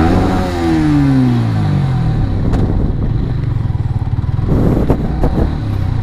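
A Yamaha R15 V3 motorcycle engine fires up and revs loudly up close, its pitch sweeping through rising revs before settling into a throbbing, uneven rumble with further short blips of throttle.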